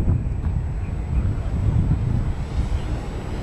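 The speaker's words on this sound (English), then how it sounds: "a little wind makes it more fun today, Elvis" Wind buffets the microphone at an outdoor RC flying field, a steady loud low rumble with gusty swells and a faint engine whine in the background throughout.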